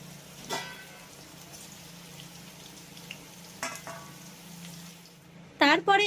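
Ivy gourd (kundri) frying in oil in a pan, a steady soft sizzle running throughout with a few sharper bursts and scrapes near the end.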